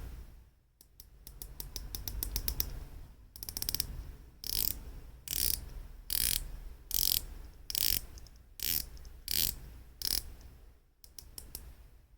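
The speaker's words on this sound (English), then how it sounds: "the bezel clicks, they feel good and they sound good" Rotating bezel on a Heron Marinor dive watch being turned, giving quick bursts of crisp ratcheting clicks, fast runs at first and then evenly spaced single clicks, close and fairly quiet with no talk.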